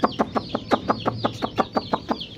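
Close chicks cluck in a quick, regular series of about a dozen short calls, loud and alone with no talk over them.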